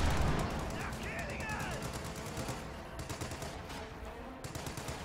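Video game gunfire from an anti-infantry strafe in a World War strategy match, rapid distant bursts of fire rattling under a steady rumble of battle noise, fairly faint and continuous.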